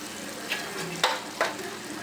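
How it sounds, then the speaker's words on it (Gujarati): Vegetables tipped into a pan of sizzling masala for a Gujarati palwo and boomla curry, with a steady fry hiss under three short stirring scrapes, close and moderately loud. "આપણો મસાલો રેડી થઈ ગયો છે જોઈ શકો છો આપણે એમાં શાક એડ કરી દઈએ"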